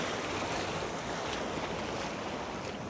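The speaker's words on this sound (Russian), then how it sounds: "Море опять разбушевалось." Rough sea waves crash onto a beach in a continuous loud roar of surf, mixed with wind buffeting, with no talking.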